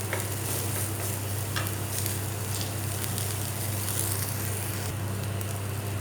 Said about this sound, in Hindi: प्याज डालेंगे। इसे थोड़ा सॉफ्ट कर लेंगे।